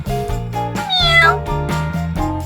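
Talking Tom, the cartoon cat from the video game My Talking Tom 2, gives a series of loud, close meows in a quick, rhythmic run, including one higher, rising squeal near the middle, with no talking.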